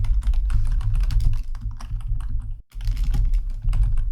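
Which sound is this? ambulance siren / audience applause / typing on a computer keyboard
typing on a computer keyboard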